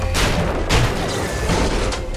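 Gunfire aimed at a Big Daddy in the video game BioShock, a dense continuous burst of loud shots and booming impacts filling the whole stretch with no pause.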